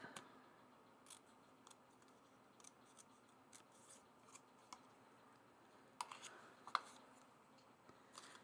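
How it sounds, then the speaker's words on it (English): Scissors snip polka dot paper for a scrapbook page in a quiet room, giving a series of faint, crisp cuts spaced irregularly, with a couple of sharper snips near the end. "I'm just gonna trim it up."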